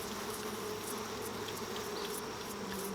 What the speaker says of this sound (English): So we'll take the bee brush and sweep the bees.